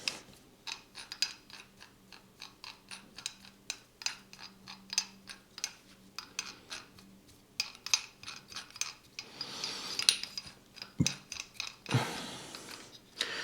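Gearbox of a Parkside Performance cordless hammer drill turned backwards and forwards by hand, giving a steady run of small clicking, ratcheting mechanical ticks with a brief rubbing scrape near the end.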